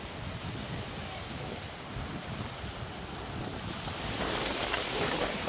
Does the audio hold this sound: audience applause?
no